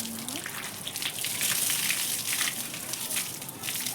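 Water gushes from an opened pipe at home, a loud, close, continuous rushing splash that swells slightly and holds steady.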